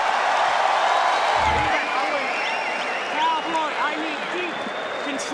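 A large arena crowd at a UFC bout between Nate Diaz and Donald Cerrone keeps up a dense, loud roar of cheering and applause, with whistles and whoops rising above it and a commentator's voice heard faintly beneath.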